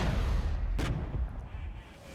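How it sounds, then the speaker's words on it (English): An artillery strike in the strategy game Regiments: a deep, rumbling low boom with one sharp blast cracking through the middle, fading toward the end. "we're going to drop artillery right here"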